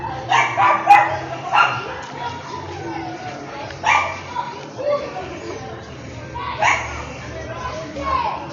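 Pet dog yipping and barking in short bursts while playing with a small ball in a street outside a house, with children and other voices talking throughout.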